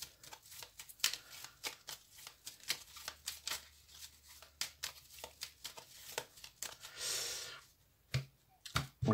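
Oracle de Béline cards being shuffled and cut, giving a fast run of crisp, close riffling clicks and snaps with a brief denser flutter near the end.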